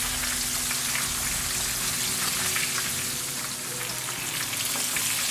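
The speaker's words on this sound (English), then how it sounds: "So these are going to fry here for about 3 to 4 minutes until they're golden brown and" Chicken pieces frying in hot oil for a pineapple sweet fire chicken dish, a steady, dense sizzle and crackle that holds at an even, close level throughout with no talking.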